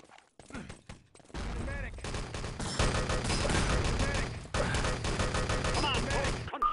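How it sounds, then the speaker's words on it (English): Rapid automatic gunfire in the online shooter game Enemy Territory, dense continuous bursts of shots with brief gaps, loud and close, with a voice talking over parts of it. "Brilliant shooting at main."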